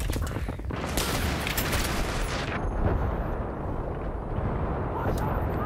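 Dense, chaotic bursts of grenade explosions and gunfire in Battlefield 3's Operation Metro map crackle continuously, with loud blasts merging into a roaring din and a voice faintly beneath.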